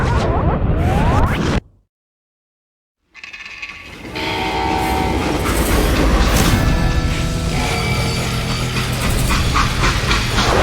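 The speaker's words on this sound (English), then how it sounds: "They hopped a freight train" A freight train rolling along in the Western video game Call of Juarez: Gunslinger, a loud, steady rumble and clatter with horn-like tones, following a short burst of sound and about two seconds of silence.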